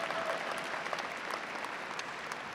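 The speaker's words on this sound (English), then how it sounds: "you can clap for that." At a 2019 Wheat Ridge High School commencement ceremony, the audience breaks into a dense, continuous wash of applause that holds steady the whole time and carries no clear speech.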